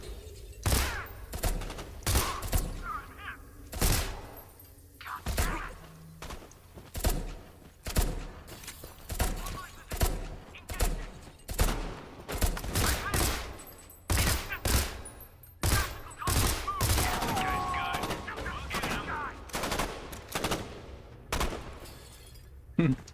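Gunfire in a video game, repeated sharp shots and bursts spread across the whole stretch, loud and close, with occasional speech between them.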